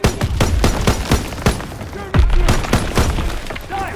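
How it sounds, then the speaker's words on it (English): Rapid bursts of gunfire crack and boom in quick succession, loud and close, with heavy thumps and rattling shots throughout, in the video game Call of Duty: WWII. "Gunfire! It must be near our guys."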